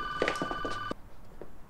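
A telephone rings in a TV show scene, a few loud electronic trills in quick succession that stop abruptly, followed by near silence.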